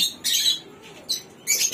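Pet breeding birds give short, high chirps in three quick bursts separated by brief quiet gaps, close and fairly soft, with no one speaking.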